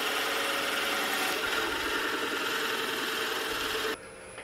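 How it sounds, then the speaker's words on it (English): A drill bit in a Jacob's chuck on a wood lathe bores through a wooden napkin ring, giving a steady, close whirring hum with a gritty cutting edge that cuts off abruptly near the end. "Let's go ahead and drill some more of these out."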